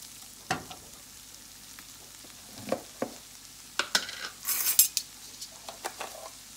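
Onion frying in a pan, with scattered clinks and scrapes of a utensil against the pan over a low sizzle, mostly sharp isolated knocks close by.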